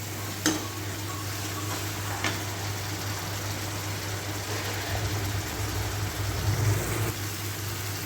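Spices frying in ghee for a ridge gourd curry while being stirred, a steady close sizzle with occasional scraping strokes of the spoon against the pan, heard alone without talk.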